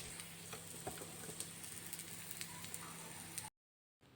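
Egg and chicken omelette batter frying in a pan, a continuous close sizzle with scattered crackles and pops, steady for a few seconds before cutting to a brief silence.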